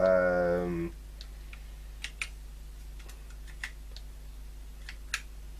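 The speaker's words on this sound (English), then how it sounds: "let me see if we can type a program" Keys clack on a ZX Spectrum 48K computer keyboard as a program is entered, sparse irregular taps spaced apart, close and fairly crisp over a low steady hum, after a brief burst of louder tone at the start.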